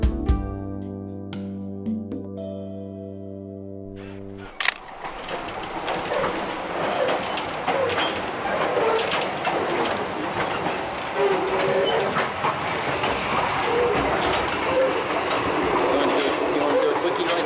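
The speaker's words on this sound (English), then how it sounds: "The Durango and Silverton Narrow Gauge Railroad is 45 miles of track between Durango and Silverton, Colorado." A Durango and Silverton narrow gauge train runs on track along the Animas River in Colorado: a steady loud rumble of wheels and cars, starting after a few seconds of a sustained tonal sound, with no clear voices over it.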